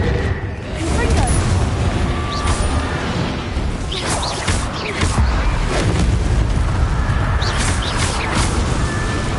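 Confringo fire spell blasts explode in Hogwarts Legacy, dense loud rumbling booms and crackling bursts layered continuously, with sharp impacts recurring throughout.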